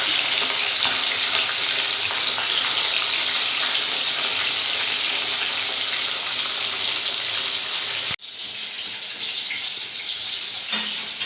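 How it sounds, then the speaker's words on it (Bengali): Pieces of live pond katla fish fry in hot oil, giving a loud, steady hiss and crackle that runs without a break. The sound cuts out for a moment near the end, then carries on a little quieter. "মাছগুলো ভাজা হোক"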